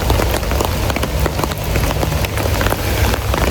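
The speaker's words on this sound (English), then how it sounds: "So I grabbed my umbrella and now we're walking in the rain." Steady rain drums on an umbrella during a walk outdoors, a loud, dense and continuous patter held close overhead, with no voices.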